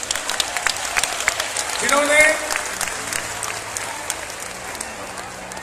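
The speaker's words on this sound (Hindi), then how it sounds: "एक बार जोरदार तालियां बजे उनके लिए," A crowd gives Dhirendra Shastri loud, sustained applause at a Hindu religious katha gathering. Dense clapping runs under someone speaking through a microphone and swells briefly near the middle.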